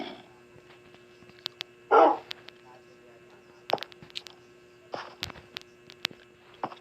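A Minecraft dog gives a few short, sharp barks and yips, spaced out over quiet game ambience, with a person's voice talking intermittently.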